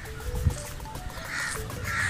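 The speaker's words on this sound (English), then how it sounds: "Ang daming crow." Crows caw from a rooftop in Pakistan, several harsh calls at moderate distance over a steady outdoor background hum, with no speech.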